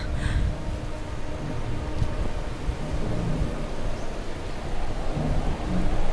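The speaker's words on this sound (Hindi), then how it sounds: "इस तूफान को आने में तो 1 हफ्ता बचा है" A thunderstorm rolls on with steady heavy rain and deep rumbling thunder, loud and dense throughout with no voices.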